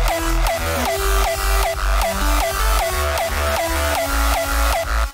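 Pitched hardstyle kick from FL Studio pounding under a bright, buzzing lead melody, with distorted, punchy hits in a rapid steady four-on-the-floor pulse; loud, dense and continuous, no talking.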